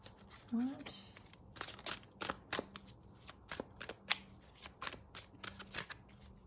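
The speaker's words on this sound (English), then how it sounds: "So as I'm shuffling this deck," A deck of tarot cards is shuffled close up, with quick papery riffles and snaps in an irregular rhythm, quiet overall, with a brief vocal sound near the start.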